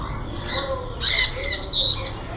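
A yellow ring-necked parakeet at a bird market gives a few loud, harsh squawks in quick succession, close by, over a low background murmur.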